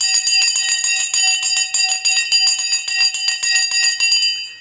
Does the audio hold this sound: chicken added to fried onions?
no